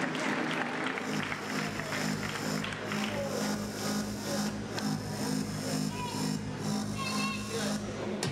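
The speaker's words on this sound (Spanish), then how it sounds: "Un fuerte aplauso para recibir a Néstor" Crowd applause at a combat-sports fight event as a fighter enters, a steady wash of clapping and cheering in a large hall, with an announcer's voice booming over it.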